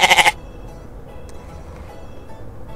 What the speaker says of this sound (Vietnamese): đây là con dê